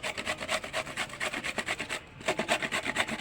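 Bottle gourd peel is rubbed against a grater in quick, even rasping strokes, about seven per second, with a short pause midway. The scraping is close and clear, with no talk over it.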